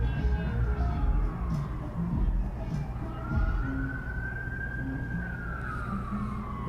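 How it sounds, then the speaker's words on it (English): Emergency vehicle siren wailing on a street a few hundred yards from a hospital, its rising and falling tone sweeping steadily over low traffic rumble throughout, moderately distant. "Always gonna have sirens down here."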